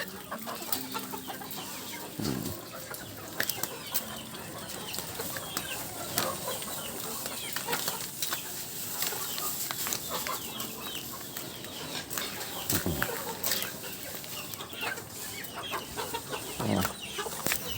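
Rhode Island chickens cluck and murmur in a busy farmyard, with overlapping soft calls and occasional wing flaps against a steady, noisy outdoor background.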